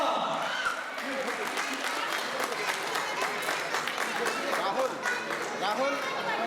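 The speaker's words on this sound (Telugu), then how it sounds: "Big claps please." A crowd at a community Ugadi prize distribution for UNO and carrom winners claps steadily for several seconds, the applause mixed with chatter and people speaking nearby.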